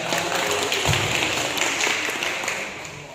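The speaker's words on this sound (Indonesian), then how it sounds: "Tepuk tangan untuk kita semua ini." Audience clapping at a village government training session, a dense, steady burst of applause filling the room for a few seconds before fading slightly.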